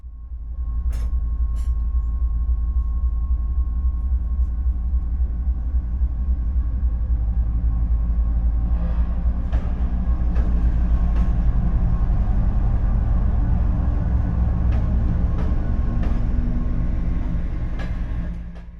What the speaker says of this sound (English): Here we meet with the local train bound for Tokmak, hauled by one of the newer TEP 33A locomotive